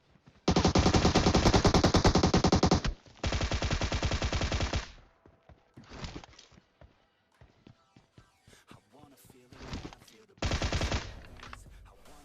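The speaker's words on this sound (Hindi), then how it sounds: "मैं अपना फायर का बटन पेलता हूं, बंदा नॉक" Gunfire from a weapon in the mobile game PUBG Mobile comes in loud, rapid automatic bursts, two long ones at the start and then shorter volleys with quieter taps and footsteps in between.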